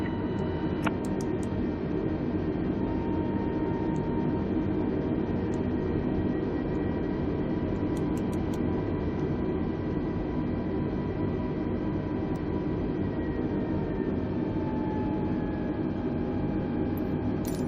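Airbus A320neo jet engines in a flight simulator on the takeoff roll from La Palma, a loud, steady broadband roar with faint whining tones sustained throughout, no talking.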